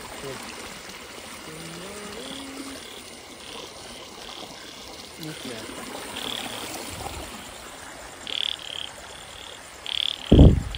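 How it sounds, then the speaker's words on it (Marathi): Frogs croak by a riverbank at night where crabs are being caught, a steady trickle of stream water running underneath, with a few louder calls bursting out close by near the end. "आशिष किती डराव करतोय रे"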